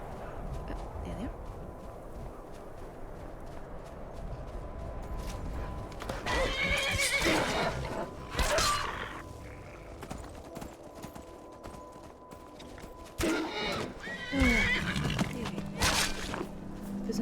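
A horse in Skyrim, the video game, whinnies loudly twice, with hooves clip-clopping between the calls over a soft background hum.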